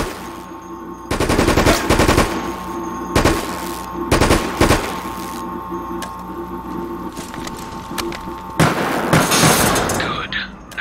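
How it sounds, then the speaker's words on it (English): Weapons fire at servers in the game Resident Evil: Operation Raccoon City comes as loud, close bursts of automatic gunfire separated by short pauses, with a long rattling volley near the end. "Concentrate weapons fire on those servers."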